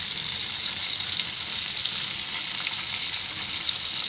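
Rava-coated mackerel (bangda) frying in a pan over low heat, giving a continuous close, even crackling sizzle with no voices.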